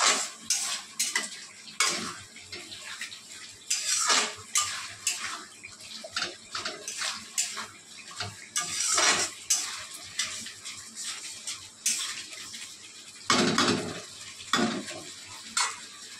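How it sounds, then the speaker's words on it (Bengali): A spatula repeatedly scrapes and stirs spice paste of chilli, ginger and onion in a pan alongside fried potato and fish for a fish curry, with rhythmic metallic clatter and sizzling bursts throughout, no talk. "ভালো করে মশলাটা কষিয়ে নেবো।"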